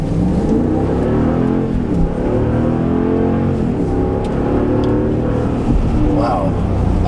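A 2017 Ram 1500 Sport pickup accelerates hard in Edmonton, Alberta, its engine a loud, steady, rising drone that carries through without a break.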